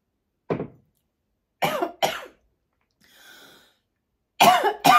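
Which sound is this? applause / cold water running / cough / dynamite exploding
cough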